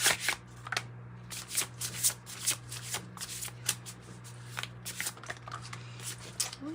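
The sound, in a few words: oracle cards being shuffled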